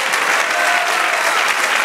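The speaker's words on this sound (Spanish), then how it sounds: "dale aplauso al Señor" A church congregation applauding in a dense, loud, continuous burst of clapping that fills the whole moment, with no talk over it.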